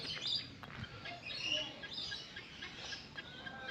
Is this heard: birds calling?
yes